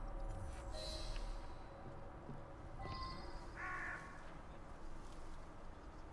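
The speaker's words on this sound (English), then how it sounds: "Oh, you fucking bird." A crow in the Assassin's Creed Syndicate video game caws a few times at scattered moments, its harsh calls fairly faint over a steady wash of game ambience.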